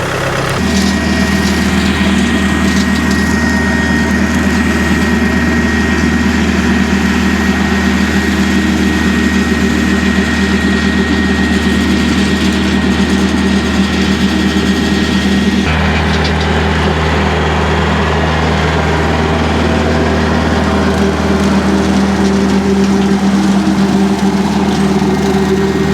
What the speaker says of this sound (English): So the actual brush hog is a lot quieter than I thought